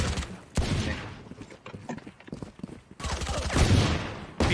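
Gunfire in the shooter game Valorant, bursts of rapid crackling shots and heavy impacts with game effects in between, loud and dense at the start and end with quieter clatter in the middle.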